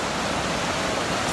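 A river in Bone, South Sulawesi, rushes with a loud, steady, dense wash of water noise, close and unbroken throughout, with no voices over it.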